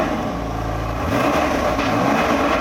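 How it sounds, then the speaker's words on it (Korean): A BMW M4 engine with a suspected Valvetronic fault idles with a low drone, then revs up as the pedal is pressed, the pitch climbing and holding steady, close and loud. "이제 엑셀을 한번 밟으면은"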